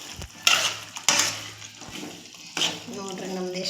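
Spoonful of masala stirred and scraped in hot oil in a pan, with clinks of a spoon against metal over a soft frying hiss and a voice speaking in between.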